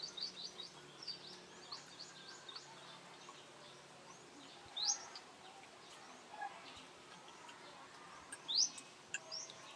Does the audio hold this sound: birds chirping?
yes